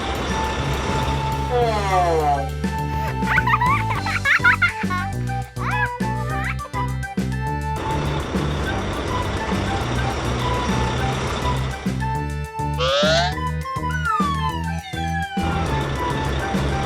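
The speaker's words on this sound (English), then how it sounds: "Dump truck." A toy-like construction dump truck backs up while an electronic reversing beep repeats alongside bright synthesized musical tones and sliding effects, running continuously in the foreground.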